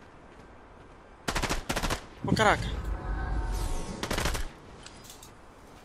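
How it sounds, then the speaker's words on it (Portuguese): Rapid bursts of automatic gunfire in Fortnite on Nintendo Switch ring out in two volleys, with a brief exclamation from a voice between them, moderately loud against a quiet background. "Tô ouvindo tiro, mas não sei de onde."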